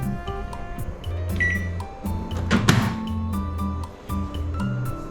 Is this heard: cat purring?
no